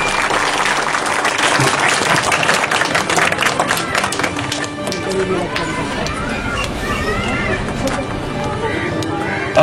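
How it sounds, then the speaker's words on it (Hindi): Loud, sustained audience applause at a stage event honouring a school principal, dense clapping filling the whole stretch with a crowd's voices mixed in. "प्लीज जोरदार तालियां।"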